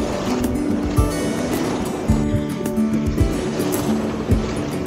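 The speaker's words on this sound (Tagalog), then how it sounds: "Lakas ng alon" Heavy sea waves crash and churn along the La Union coast during a typhoon, a loud continuous roar of surf with repeated low surges and water rushing close by, no talking.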